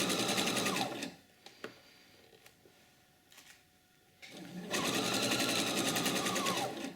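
A sewing machine stitches a sleeve seam down toward the hem of a garment with an exposed zipper, running steadily for about a second, pausing amid faint handling clicks, then running again loud and close.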